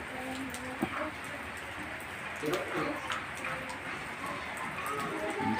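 Steady rain falls outdoors beside a house, a constant hiss with scattered drip ticks, while people talk under it.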